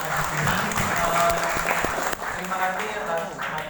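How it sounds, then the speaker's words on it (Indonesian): Audience applause at a photojournalism exhibition discussion: dense, sustained clapping from a seated crowd that holds steady for several seconds, with faint voices mixed in. "Oke, tepuk tangan untuk ini."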